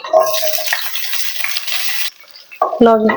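Whole spices, ginger, green chili and garlic frying in a hot pan give a loud, steady sizzle for about two seconds, then a brief quieter pause before a stir or scrape clatters in near the end.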